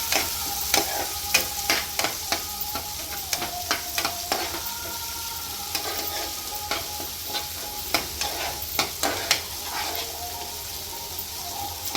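Chopped tomatoes sizzle in hot oil with onions in a pan for upma, with a steady frying hiss broken by regular scraping clicks of a spoon stirring, close and moderately loud.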